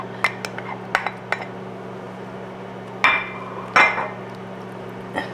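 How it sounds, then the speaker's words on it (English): Corn being added to a pot of Mexican beef stew, heard as scattered metallic clinks and a couple of louder scraping knocks against the pot over a steady low hum, close by. "I'm going to go ahead and add in my corn now"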